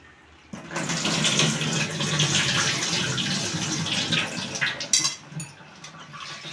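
Running water splashing as spinach leaves are washed in salted water, a steady close rush and slosh of water for several seconds, ending with a few sharper splashes.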